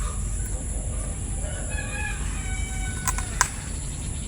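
A chicken clucks in a short series of calls in a rural vegetable garden, at moderate distance over steady background hiss and insect noise, with a couple of brief sharp knocks near the end.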